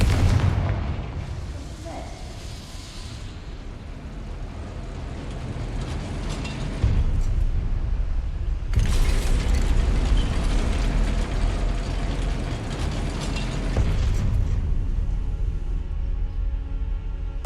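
Confringo fire spells blasting in Hogwarts Legacy, heavy booming explosions with a rumbling, roaring tail that swell and continue through a dense, loud stretch of spell combat.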